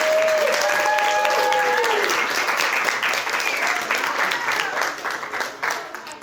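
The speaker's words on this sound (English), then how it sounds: "Give yourself a round of applause." Wedding guests applaud together in a steady, full round of clapping after a trivia game, with a few whistles rising over the crowd.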